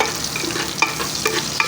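Chopped onion is stirred and sautéed in a hot pan for a mung bean vegetable dish, a close, steady sizzle broken by a few scraping stirs of the spoon.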